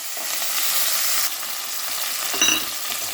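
Chopped onions and curry leaves hit hot oil already seasoned with cinnamon and cloves for a white vegetable kurma, giving a loud, steady sizzle with stirring scrapes and a brief sharper crackle near the end, no voices.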